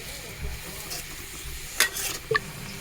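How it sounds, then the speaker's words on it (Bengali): Cabbage with a pinch of salt stir-fried in a pan for noodles: faint low sizzling with soft stirring shuffles, then a couple of sharp metallic clinks of a utensil near the end, quiet and close. "এখন আমি দিয়ে দেবো বাঁধাকপি দিয়ে দেব সামান্য পরিমাণ লবণ"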